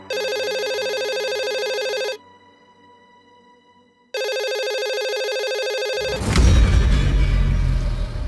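A telephone ringback tone while calling a police station, two long loud buzzing rings separated by a pause, then a rumbling burst as the line connects.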